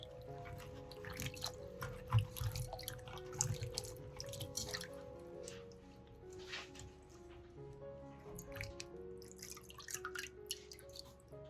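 Okra is rinsed under running water after scrubbing, a light splashing and dripping at a sink with scattered soft knocks as the pods are turned.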